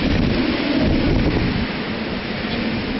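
Heavy rain pours down amid strong gusting wind late at night in a storm's back-side winds, a loud dense continuous roar with no voices.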